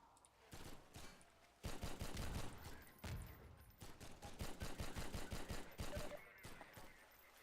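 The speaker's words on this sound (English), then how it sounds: "that was a lot more explosions than I thought it was gonna be" Rapid volleys of gunfire and explosions in the video game Half-Life 2 crackle in quick repeated bursts, loud and dense, with short pauses between.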